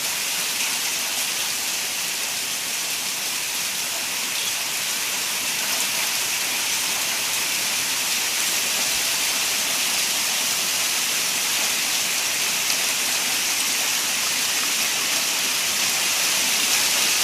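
Hail falls heavily on a street in Leiria, Portugal, a loud continuous dense hiss and clatter that stays steady without pause, with no voices.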